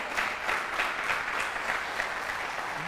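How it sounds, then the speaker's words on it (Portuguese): A church congregation applauds during a sermon, steady, moderately distant clapping from many hands that continues throughout with no voices. "Dá um aplauso aí, pelo amor de Deus."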